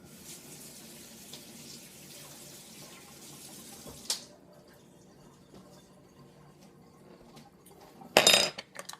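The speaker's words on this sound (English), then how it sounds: "We're going to move on to the oats here after I rinse off this spoon" A spoon rinsed under a running kitchen tap: water streams into the sink for several seconds, a brief clatter follows, then a louder burst of water near the end.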